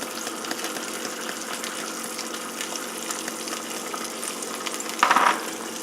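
An egg fries in a pan, with a steady close sizzle and crackle that briefly flares louder near the end.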